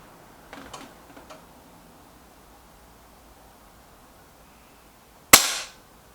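A single sharp crack from an Artemis P15 air rifle rings out after faint clicks and handling noises, loud and close, followed by a brief decaying ring.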